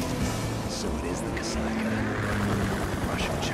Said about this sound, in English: Kasaka. Russian choppers.